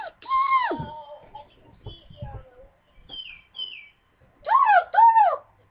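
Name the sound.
bird returning to a mirror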